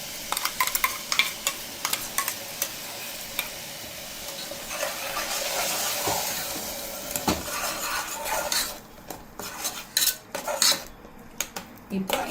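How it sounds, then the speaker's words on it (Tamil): Ground onion, tomato and green chili paste is added to a pan for a double bean curry and stirred, with a soft frying sizzle under repeated metal spoon scrapes and clanks against the pan. "இப்போ நம்ம வந்து வெங்காயம் தக்காளி பச்சை மிளகாய் அரைச்சி வச்சுருக்கிறத சேர்த்துடலாம்"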